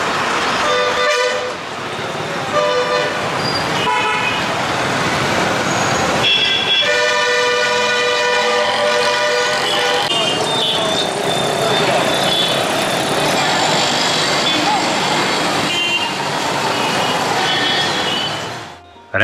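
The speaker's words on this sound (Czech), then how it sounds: "Ulice po okraj naplněné provozem čehokoliv, co jede, k tomu patří patřičný hluk" Dense street traffic in Tiruvannamalai, India, with repeated car and vehicle horns honking and tooting in quick overlapping bursts over a constant roar of engines, loud and continuous throughout, with voices in the mix.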